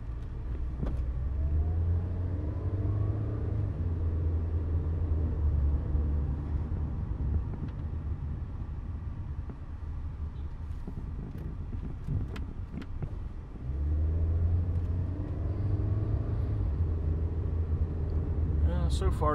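A car drives along a road in St Lucia with a steady low engine rumble and wind buffeting from inside the cabin, the drone easing midway and then building again, with occasional faint voices underneath.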